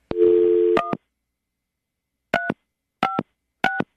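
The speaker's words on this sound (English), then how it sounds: "we're going to dial now, see if he'll answer" A telephone keypad sounds a long tone, then four short separate dialing beeps in a quiet room as a call is placed, clear and close with no voices.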